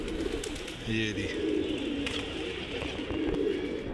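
Pet pigeons in a home loft coo low and continuously while someone speaks over them, with a short pitched warble standing out near the start.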